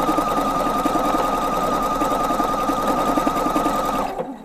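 A Husqvarna Viking Opal computerized sewing machine runs a programmed stitch sequence, a loud, steady, close mechanical whir with a rapid needle pulse that continues evenly before stopping on its own.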